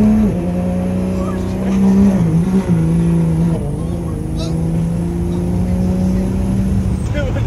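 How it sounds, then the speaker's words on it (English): A lifted Chevy dually pickup with a tuned L5P Duramax diesel roars through a burnout, a loud, steady, droning engine note with shifting pitch and a faint high whine above it, held for several seconds. "For the first 200 feet, there was a whole burnout."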